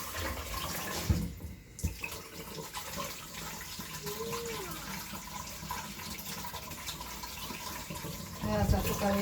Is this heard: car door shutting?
no